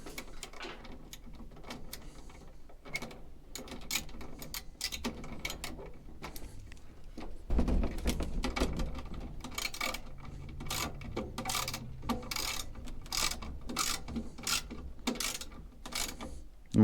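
Ratchet tightening screws on a Kenmore Oasis dryer control board, a series of quick clicking bursts and rattly mechanical ticks in uneven runs, fairly quiet and close, with no speech.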